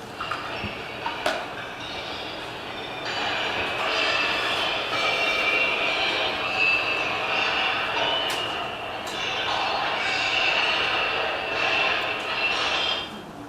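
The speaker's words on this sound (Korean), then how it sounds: "이 장소는 유대인 박물관의 메모리얼 보이드라고 하는 장소예요" Inside the Memorial Void of the Jewish Museum, a continuous reverberant rattling and grinding rumble swells and fades, with a sharp knock near the start and faint voices beneath.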